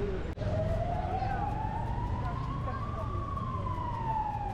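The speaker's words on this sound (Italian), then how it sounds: "Ok, di nuovo polizia." A police siren wails through a Barcelona street in the Raval district, a loud, steady rising and falling tone over constant traffic and street noise.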